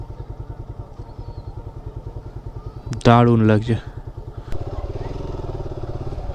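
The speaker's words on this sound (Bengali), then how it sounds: "তো চলো বাইকটাকে পার্কিং করি" A motorcycle on a Darjeeling road trip, arriving at Lamahatta Eco Park, runs with a steady low rhythmic throb. A short burst of voice cuts in midway, and the engine keeps pulsing underneath.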